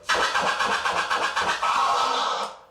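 Repeated back-and-forth vinyl scratches on a turntable, rapid rhythmic rubbing strokes that blur into a longer sweep before fading out.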